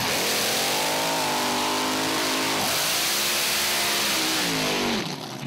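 Two front-engine dragsters at nostalgia drag racing roar loudly side by side, their engines climbing in pitch through gear changes as they accelerate, then cutting off at the end.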